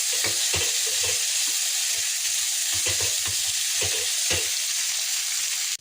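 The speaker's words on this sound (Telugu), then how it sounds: "ఇప్పుడు ఉడికిన సేమియా సేమియాని అటు ఇటు కలుపుకోవాలి ఫ్రెండ్స్, మంచిగా కలిసే వరకు" Cooked vermicelli with gongura and chickpeas is stirred in a hot pan, a continuous loud sizzle punctuated by repeated scraping strokes of a spoon at an uneven rhythm, with no speech.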